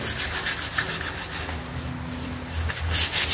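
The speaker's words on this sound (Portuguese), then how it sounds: "essa aí é só uma dica de como que eu faço o lixamento" Hand sanding on a tricycle body that has been filled with body putty and primed, a steady close rasping scrape with rhythmic strokes that swell and fade, no voices.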